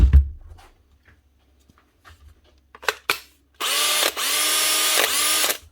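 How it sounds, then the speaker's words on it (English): An older DeWalt DCD785 drill with a brushed motor gives a couple of short trigger bursts after some faint handling clicks, then runs in a loud, continuous whirring whine that dips slightly midway. "Older DeWalt drill with a brushed motor."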